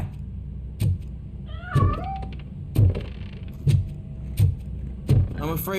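A cat meows several times inside the game RoboCop: Rogue City, rising and falling cries scattered among recurring low thuds and a steady hum, with a final longer mew at the end.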